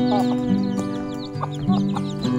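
An Ayam Cemani hen clucks close by in short repeated calls, with other chicken noises and a steady background hum.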